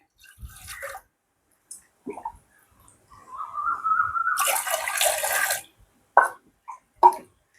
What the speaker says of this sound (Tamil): இப்போ வந்து நாங்கள் முருங்கைக்காயை வெட்டி கொள்றதுக்காக தண்ணியை ஊற்றி கொள்வோம் பாருங்க